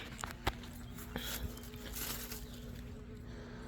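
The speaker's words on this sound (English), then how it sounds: "The bees love them." Bees buzz around cucumber plants in a garden in a steady, close drone with a low hum beneath it, punctuated by a few faint taps.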